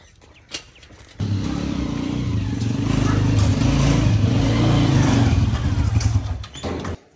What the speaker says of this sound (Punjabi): ਤੇ ਮੋਟਰਸਾਈਕਲ ਜੀ ਇੱਥੇ ਅੰਦਰ ਆ ਗਿਆ